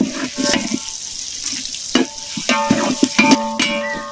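Onions sizzle and crackle in hot oil while a mutton curry is being made, with scraping and stirring clatter from a utensil against the pan.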